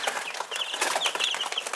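Young backyard chickens around three weeks old, feathering out, keep up a busy run of clucks and high peeps, close and fairly clear, with no talking over them.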